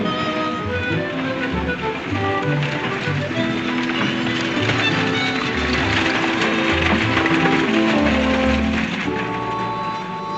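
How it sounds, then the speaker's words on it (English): Horses ride by with steady hoof clatter under a thick layer of music, with rain-like hiss and a faint whinny. "you ride with me. Andy'll bring your horse"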